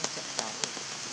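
Rain falls steadily on a surface, a soft continuous patter with a few sharper drops landing nearby, fairly faint overall.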